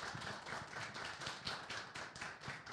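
Audience applauding a colleague named Clóvis at a workplace safety and health talk, a steady, dense patter of many hands clapping together for the whole stretch, moderately loud with no voices over it.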